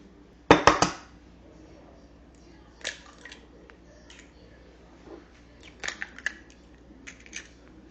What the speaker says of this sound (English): In this bowl, I'm gonna crack in 2 fresh eggs.